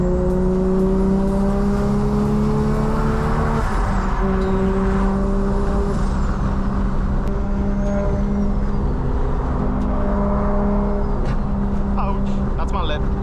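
Single-turbo BMW F80 M3 engine droning steadily from inside the car while driving, with rising and falling tonal engine notes and a shift around four seconds; a voice talks over it throughout.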